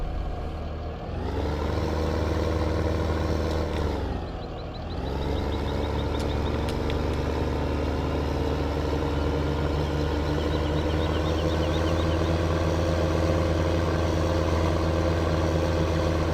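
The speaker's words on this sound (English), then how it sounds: "I'm just going to drive my tractor down that way" A tractor in a farming video game drives along with a steady, droning diesel-like engine hum, briefly dipping in pitch before settling into a constant loud rumble with faint mechanical whines, no voices.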